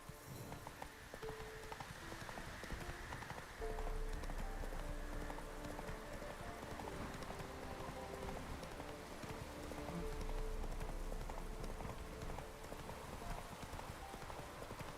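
Horse hooves clip-clop steadily at a riding pace in The Witcher 3, a continuous rhythmic trot heard close up over a soft rain-like game ambience.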